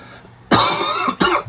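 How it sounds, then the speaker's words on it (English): Two harsh coughs in quick succession, close and loud, the first longer and the second a short follow-up. "I don't know why I have this like lingering cough."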